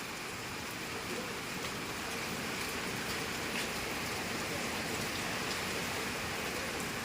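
Heavy rain falls during a typhoon as a dense, steady hiss of countless drops on surfaces, constant and unbroken throughout with no voices.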